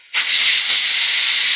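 A pressure cooker vents steam through its whistle while mutton cooks, a loud, sudden, sustained hiss that starts abruptly and holds steady, with no voices.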